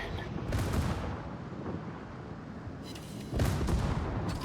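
Naval guns on a warship fire in a video game naval battle, heavy booming blasts near the start and again near the end over a continuous rumbling battle din.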